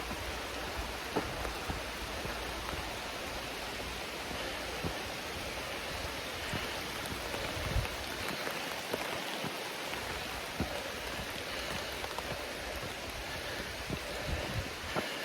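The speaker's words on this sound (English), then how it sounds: "Yeah, it's raining enough now." Steady rain falls on a forest trail, a dense even patter with occasional louder drops landing nearby, continuing without pause.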